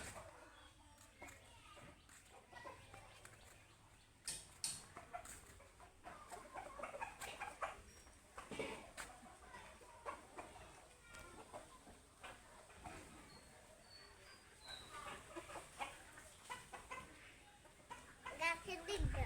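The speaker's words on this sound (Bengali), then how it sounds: "দেখো কত মুরগি চলে আসছে ধান খাওয়ার জন্য।" Chickens clucking outdoors as they gather to eat paddy, scattered clucks and calls at moderate distance amid children's voices and rural background noise.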